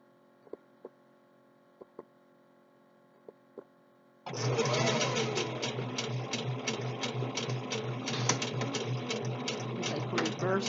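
A sewing machine run by a foot pedal starts up after a few quiet clicks and settles into a loud, fast, steady stitching whir that lasts to the end.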